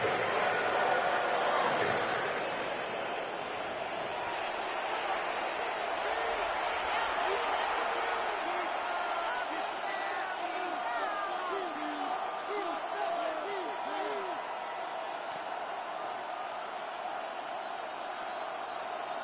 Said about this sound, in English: We can feel this crowd all the way up here in the press box